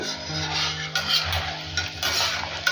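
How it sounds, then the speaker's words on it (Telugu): Snacks fry crisp in oil over a medium flame. A steady close sizzle runs under repeated stirring and metallic scraping of a utensil in the pan, with no talking. "ఇలా మీడియం ఫ్లేమ్లో పెట్టేసుకొని ఫ్రై చేసుకోండి బాగా క్రిస్పీగా వస్తాయి"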